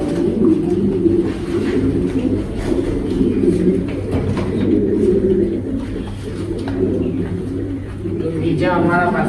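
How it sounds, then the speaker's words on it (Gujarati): Blue Moonmark Pomeranian pigeons coo softly in low, throaty murmurs, with a steady background hum and a brief fluttering at the end. "આ કબૂતરનું નામ છે બ્લુ મૂનમાર્ક પોમેરિયન"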